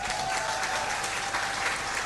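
Steady applause and clapping from a crowd at a political talk event, dense and continuous throughout without a break.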